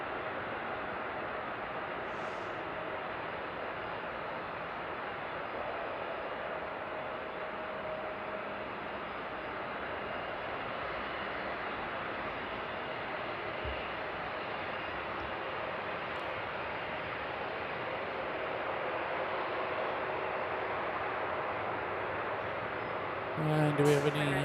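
An A321 airliner taxis with a steady, broadband engine roar that holds fairly even throughout and swells slightly near the end, heard from a distance at an airport.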